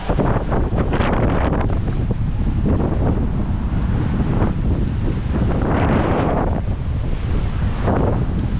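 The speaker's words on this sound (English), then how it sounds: "The winds are sustained between 20 and 24 knots." Strong 20 to 24 knot wind buffets the microphone aboard a sailing boat on passage off New Zealand, a loud continuous roar with gusting swells and the wash of waves, no talking.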